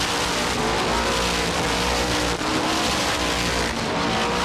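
Stock race cars roaring at a speedway during a short-track race, a loud continuous engine drone close by that holds steady with slight fluctuations and no talk over it.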